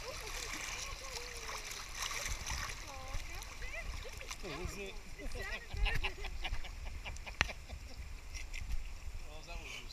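Rushing, splashing river water while tubing fills the clip, with voices shouting and exclaiming over it and a few sharp knocks.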